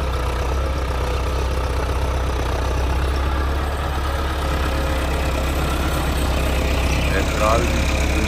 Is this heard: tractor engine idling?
yes